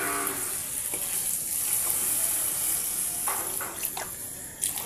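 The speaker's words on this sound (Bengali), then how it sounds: "তো আমি এর মধ্যে এবার জল দিয়ে দেবো।" Water pours into a pan of sizzling chicken curry, a continuous close hiss and splash over frying noise, steady and moderately loud, with no talking.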